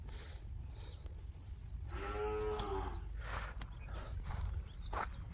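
A bull lows once in a drawn-out moo, near and fairly loud over steady low background rumble and faint footsteps, with no talk.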